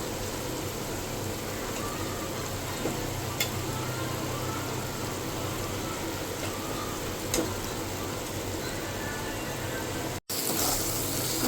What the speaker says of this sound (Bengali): মশলাটা আমার কষানো হচ্ছে।